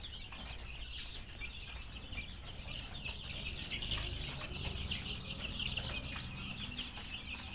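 Chickens cluck softly as they feed, a steady, fairly quiet backdrop of overlapping clucks and pecking with no talking.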